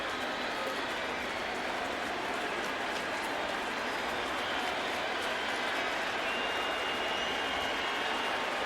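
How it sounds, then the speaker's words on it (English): Baseball stadium crowd at a 2013 Red Sox game roars steadily with a two-strike count, a sustained distant wash of cheering and applause. "Crowd at the stadium looking for strike 3. Making some noise."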